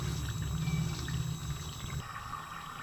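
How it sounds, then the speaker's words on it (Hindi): Boiled chana dal poured into a pan of ghee-rich gravy, a short soft wet slosh and pour that settles into a low sizzling trickle. "फिर इसमें दाल डाल देंगे।"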